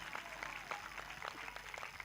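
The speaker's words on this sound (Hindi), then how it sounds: "ताली बजाकर धन्यवाद करेंगे जो लोग" A church congregation at a Sunday service in Tajpur claps in thanks, a soft, distant patter of many hands in an uneven rhythm, steady throughout, with faint voices underneath.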